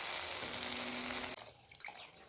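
Water poured from a tumbler into a cooking pot for spinach rice: a steady, loud rushing pour that stops abruptly partway through, followed by faint drips and small kitchen clatter.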